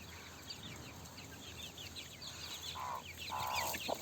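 Chickens and chicks of İspenç and Türken breeds clucking outdoors among trees, soft busy peeping and a few louder clucks over a steady background, with no talking.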